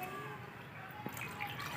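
Plain water is poured into an acid solution while refining gold, a soft, close liquid pour with light dripping splashes, fairly quiet and continuous.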